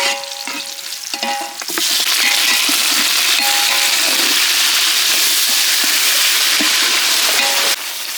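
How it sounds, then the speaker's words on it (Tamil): Turmeric-marinated chicken hits a hot pan in a village kitchen and bursts into a loud, steady sizzle that runs on continuously, with a few clinks and stirring scrapes near the start. "அலசி மஞ்சத்தூள் போட்டு வச்சுருக்க சிக்கனை வந்து போட்டுக்கலாம்"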